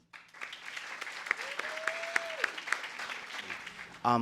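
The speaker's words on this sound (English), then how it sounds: "I want all you guys to give a round of applause for yourselves" A quiet room of summer luncheon guests claps for themselves in sparse, scattered claps, with a brief whistle-like tone rising and holding in the middle and a louder burst at the very end.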